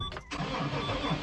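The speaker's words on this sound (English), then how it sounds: "Right, so change of battery, tractor started." A farm tractor, just fitted with a replacement battery, fires up after a brief cranking dip and settles into a loud, close, steady engine rumble.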